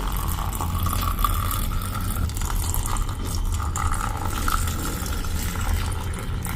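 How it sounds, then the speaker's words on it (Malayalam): Boiled, blended milk pours into glasses of iced coffee, a steady liquid stream with a low continuous gurgle that holds at an even level from start to finish, no voices. "ഇനി നമുക്കിതിലേക്ക് തിളപ്പിച്ച് അരച്ചെടുത്തിട്ടുള്ള പാല് കൂടെ ഒഴിച്ചു കൊടുക്കാം"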